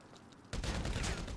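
Machine gun fire in the GTA V video game erupts abruptly after a brief quiet start, a loud dense burst of rapid shots continuing to the end.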